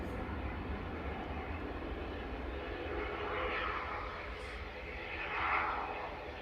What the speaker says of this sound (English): just taxiing out to the runway now for departure to Belfast